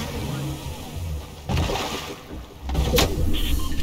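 A boat engine in a video game, rumbling steadily with water wash, a surge partway through and a sharp noise near the end, with players' voices faintly in the mix.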